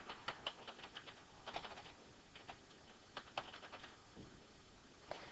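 Irregular clicks and taps from a computer keyboard being typed on, a quiet, close run of keystrokes in short bursts with small pauses, no voices.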